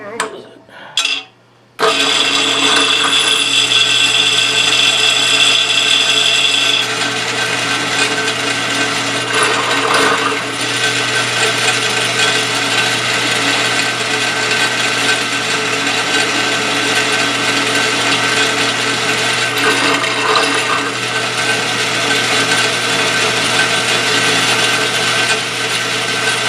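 A drill bores into a homemade hand-piece for a hand engraving machine, the bit already running hot, giving a loud, continuous whine that starts after a brief pause and holds for the rest of the stretch with small shifts in pitch.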